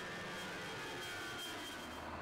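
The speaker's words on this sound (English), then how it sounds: "On any given day, hundreds of planes will fly out of Reagan Washington National Airport." Airliners departing Reagan Washington National Airport make a steady, broadband jet-engine roar that holds at a moderate, distant level without pause for the whole stretch, with no voices.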